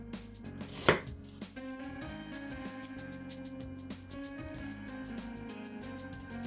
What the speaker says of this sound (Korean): 양파 반 개를 이렇게 채 썰어줍니다.